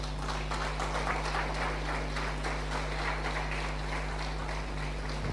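Church congregation applauding during a Spanish-language sermon, a steady wash of many hands clapping over a low hum, fairly faint and distant throughout.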